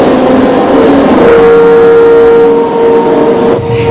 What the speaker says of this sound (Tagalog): kundi ugong ng malakas na hangin na magdamag na umalingaw sa aming tinutuluyan sa Baler